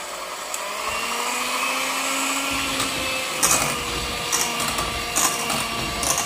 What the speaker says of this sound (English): I'm going to use my mixer because the banana have lumps